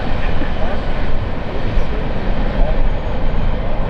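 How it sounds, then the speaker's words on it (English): A freight train rumbles past close by on a Norfolk Southern or CSX line along the Lake Erie coast in northwestern Pennsylvania, a loud continuous rolling roar with voices talking over it. "There's a train."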